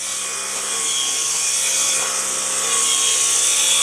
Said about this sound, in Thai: ใช้เครื่องตัดหญ้าไฟฟ้าเลยนะไม่เปลืองน้ำมัน